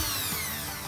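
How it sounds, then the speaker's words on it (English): A power drill bores out rivets on the deck of a Siren 17 sailboat during restoration, a brief close, continuous high whirring grind. "so we need to drill those out"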